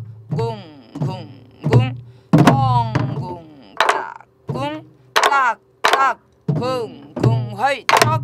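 A Korean sori-buk barrel drum is struck in jungmori and jungjungmori rhythms during a traditional drumming lesson, giving deep, close thuds at uneven intervals while voices call out between and over the strokes.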